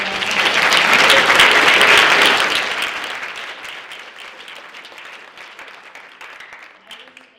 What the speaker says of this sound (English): So one more round of applause for this group.